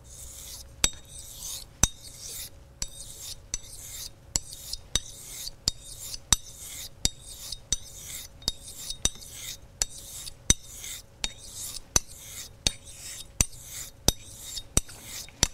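A straight razor is stroked across an Arkansas stone in about twenty regular, crisp scraping passes, each ending in a sharp metallic tick, close and clear with no talking.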